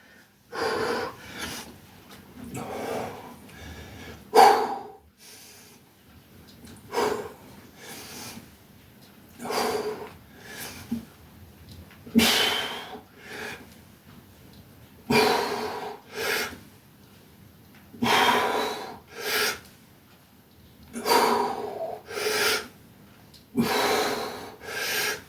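Heavy breathing during a home workout comes as loud, sharp exhalations and snorting gasps in regular bursts every couple of seconds, close to the mic, with quiet pauses between efforts.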